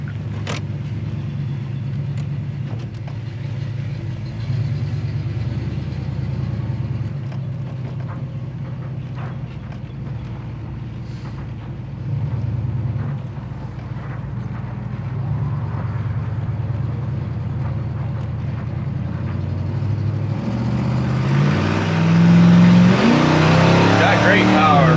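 A 1979 Camaro Z28 V8 with a non-factory engine, more powerful than a stock 350 or 305, idles with a steady low rumble, then revs up sharply near the end; people talk over it.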